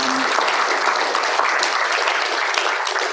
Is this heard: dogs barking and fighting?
no